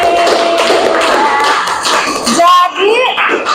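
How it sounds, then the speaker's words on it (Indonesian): A classroom of students bursts into dense, steady clapping that fills the first few seconds, with voices talking over and after the applause. "Tepuk tangan buat kita hari ini."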